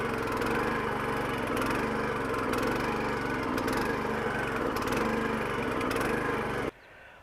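A Sharp Garuda weeding machine's small engine runs loud and close with a steady, buzzing drone, then cuts off abruptly near the end.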